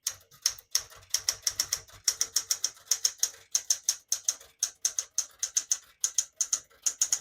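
A 1968 Smith-Corona Super Sterling portable typewriter being typed on steadily, crisp close keystrokes clattering in quick bursts with a regular rhythm and brief pauses, no voices.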